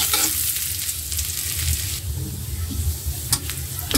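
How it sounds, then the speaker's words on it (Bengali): Sliced onions frying in hot oil until browned, with a loud steady sizzle up close and brisk stirring scrapes, including a sharp clink near the end. "পেঁয়াজটা লাল করে ভেজে নিচ্ছে"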